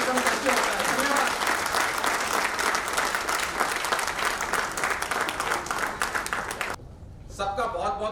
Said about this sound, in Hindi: एक बार जोरदार तालियों से सुमित का वेलकम करते हैं